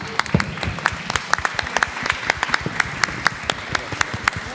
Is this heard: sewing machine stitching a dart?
no